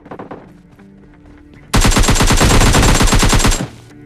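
Sustained automatic gunfire in the PUBG Mobile Lite battle royale game, a loud nearby burst of rapid shots lasting about two seconds, preceded by a few quieter scattered shots and game sounds.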